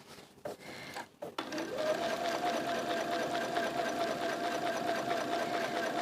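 Sewing machine running a steady, continuous stitching hum while quilting straight lines across a quilt, starting after a few brief stops and then sewing without pause, close and fairly loud.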